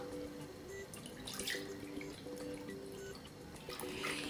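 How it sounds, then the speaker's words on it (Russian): Milk pours into a glass at breakfast, a soft, faint, steady liquid trickle with slight gurgling, close by and heard alone. "Сейчас налью молока."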